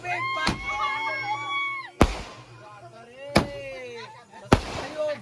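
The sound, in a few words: firecrackers bursting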